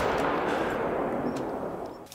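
Rifle shots while hunting in the video game Call of the Wild, a loud burst of gunfire that fills the moment and then decays into a fading rumble.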